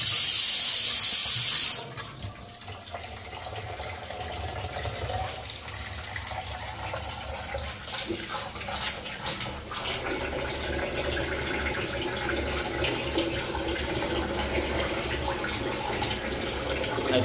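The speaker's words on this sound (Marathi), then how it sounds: "धुवून घेता व्यवस्थित 4-5 वेळा धुवून घे." Running tap water splashing steadily into a sink while shark meat is rinsed by hand, a continuous close wash that starts after a brief louder burst and carries on without talk.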